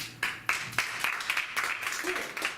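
A small audience at a Shakespeare book club show applauds in short scattered bursts of clapping, fairly close and moderately loud, with no voices over it.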